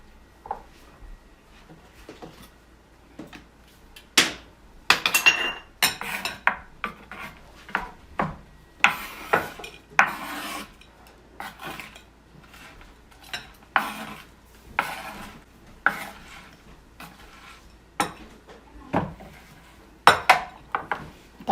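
Pork dinakdakan being mixed in a bowl with green onion and cilantro, a close, irregular run of utensil scrapes and clinks against the bowl.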